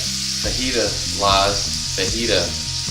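Strips of Canada goose meat sizzle on a hot griddle as fajitas, a steady close frying hiss with soft crackles swelling and easing over a few seconds.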